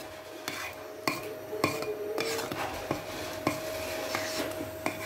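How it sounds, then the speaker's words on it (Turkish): A spoon stirring a thick pestil fruit mixture in a pot, scraping and clinking against the sides in a steady rhythm of distinct knocks over a low background hum, close and moderately loud. "Karıştırmaya devam ediyoruz"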